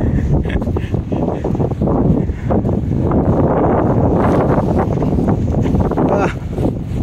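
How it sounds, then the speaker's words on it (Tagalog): Strong winter wind in a Canadian snowstorm at about minus eight, roaring steadily and loudly against the microphone with gusty buffeting throughout and no pauses. "Mahangin kasi yan ang problema pag mahangin eh."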